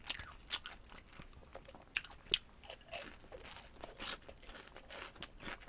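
Crispy boneless fried chicken bitten close to the mic, giving a series of sharp crunches and crackly chewing in irregular bursts over a quiet room, with no talking.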